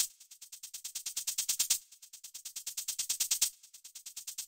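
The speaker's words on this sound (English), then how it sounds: "I have set here a shaker starting with low velocity raising to the end." Shaker sample in FL Studio playing a steady rapid pattern of strokes, each phrase starting quiet and growing louder as velocity rises, repeated twice alone.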